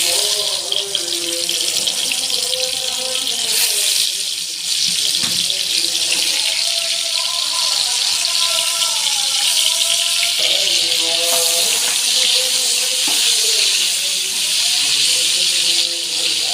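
Bitter gourd and potato frying in hot oil, a loud, steady broadband sizzle and hiss that carries on without a break, with a voice speaking over it.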